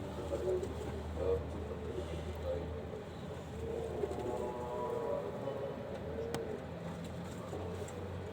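Pigeons cooing during a pigeon-catching session, soft repeated coos at a moderate distance over a low background rumble of traffic.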